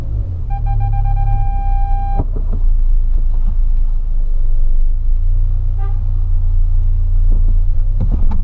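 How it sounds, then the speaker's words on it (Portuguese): 2008 VW Polo pulling out of a tight parking space, its engine giving a steady, loud low rumble throughout, with a short electronic tone near the start and no talking. "Vou sair aqui dessa vaga aqui"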